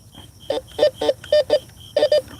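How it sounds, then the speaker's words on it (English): Bounty Hunter metal detector sounding off over a pull tab in grass at night: a series of short, mid-pitched electronic beeps, about eight bursts in quick pairs and singles, fairly close and clear against a quiet background. "That's the sound of a pull tab."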